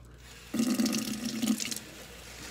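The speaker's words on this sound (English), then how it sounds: "I emptied all my water out." Water pours out in a steady splashing stream for about a second, then stops, with a faint trickle after; it sounds close by, like a container being emptied into a sink, and no one speaks.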